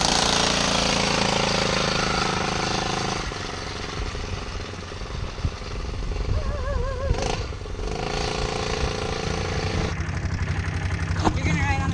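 Mini Banshee ATV engine running loud and close throughout, with a buzzing two-stroke drone that dips and swells as throttle changes on a dirt road, and voices briefly heard over it.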